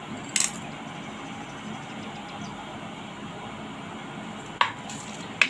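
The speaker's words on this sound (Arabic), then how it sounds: "ونبتدي نقلب في البصل لغايه ما البصل يطرى" Chopped onion and spices in hot oil in a pot, cooking for a beef biryani, give a steady soft sizzle while a spoon stirs, with a few sharp metal clinks against the pot.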